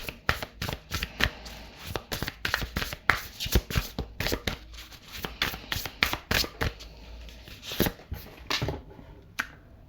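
Oracle cards being shuffled by hand, a quick run of crisp riffling and slapping clicks close up that continues steadily for several seconds before stopping, with no talk over it.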